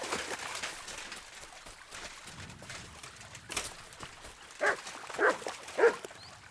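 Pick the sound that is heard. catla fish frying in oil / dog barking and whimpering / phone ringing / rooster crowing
dog barking and whimpering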